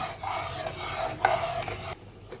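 Lentil dal in a pot being stirred after ginger and fennel paste goes in, a steady raspy scraping and rubbing with a few brief knocks, fairly close, with no talking.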